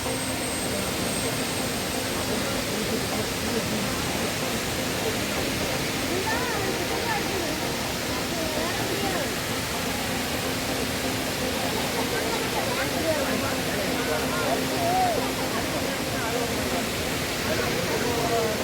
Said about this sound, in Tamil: இந்த தண்ணி விழற சத்தத்தை கேட்டாலே அவ்வளோ சூப்பராக இருக்குது